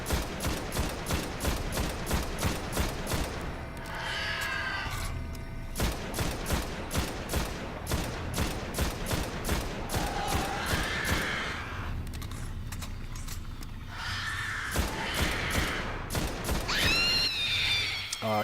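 Rapid, sustained weapon fire in the shooter game Destiny, dense repeated bursts with short pauses, punctuated by sci-fi enemy cries and effects, loud and up front.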